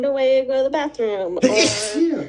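A woman with bad allergies talks and then breaks into one sharp, loud, close sneeze.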